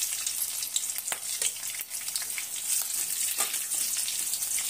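Green chillies and curry leaves frying in hot oil for lemon rice, giving a continuous bright sizzle with crackles and stirring scrapes close by, no talking.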